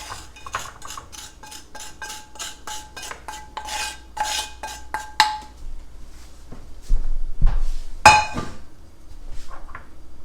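Toasted fennel-flavoured breadcrumbs being tipped and scraped from a pan back into a bowl, with a run of quick metallic clinks and scrapes close by, followed by a louder rustle and a final clatter.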